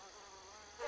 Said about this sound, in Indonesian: Buset, nyamuk di mana-mana,